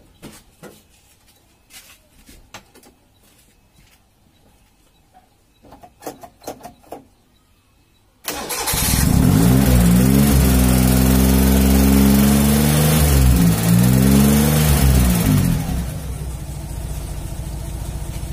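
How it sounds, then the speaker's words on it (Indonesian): After several seconds of quiet clicks and small handling noises, an old car engine cranks and catches, then runs loud and steady with a brief rise in revs partway through before settling back to idle. "sekarang kita hidupkan mesin mobilnya"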